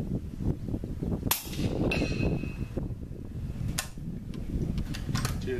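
A .300 AAC Blackout rifle fires 203-grain rounds, and a few sharp cracks stand out against a low, rumbling background.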